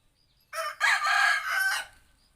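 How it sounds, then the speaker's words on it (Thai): A rooster crows once from a backyard coop, a loud drawn-out call lasting over a second, close by against a quiet background. "ขออภัย เด้อพี่น้องเสียงไก่ก็ได้"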